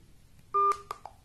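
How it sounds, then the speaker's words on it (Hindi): Phone dialing tones from a Byju's M10 tablet: one longer beep and then two short tones, crisp and close against a quiet background. "मैं फोन भी किसी को लगा सकता हूँ, बस सिर्फ एक नंबर डालना पड़ेगा इसमें। जैसे मैंने ये लगाया, ये देखिए फोन लग गया"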